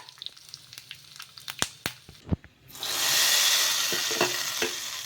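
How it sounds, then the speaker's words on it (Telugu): Sharp crackles and pops from mustard and cumin seeds dropped into hot oil, then a loud steady sizzle as curry leaves hit the pan, hissing close up. "నూనె వేగడెక్కిన తర్వాత ఇందులోకి జీలకర్ర ఆవాలు ఇలా ఇందులోకి కొంచెం కరివేపాకు అయితే వేసేసుకొని పోపు అయితే పెట్టేసుకుందాం"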